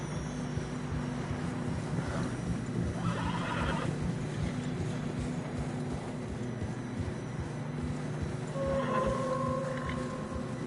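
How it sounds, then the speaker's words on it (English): Horses struggle through deep fresh snow in the video game Red Dead Redemption II, with snorting and whinnying over a steady low rumble of game ambience and muffled hoof movement, plus a clearer whinny near the end. "Horses are struggling."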